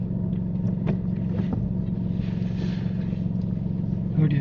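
A learner driver's car pulls away during a driving lesson, a steady low engine rumble and road noise running throughout at close range, with no voices over it.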